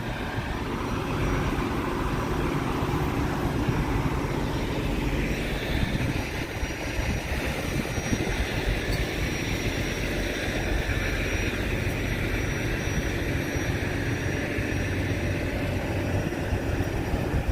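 Steady rumble of a Montreal metro train in motion, heard from inside a car during a long ride, with continuous low roar and rolling noise throughout and no talk.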